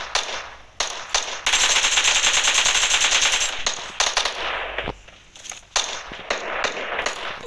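Machine gun fire in the video game PUBG: sustained rapid bursts, loud and close, broken by short pauses and followed by scattered shots.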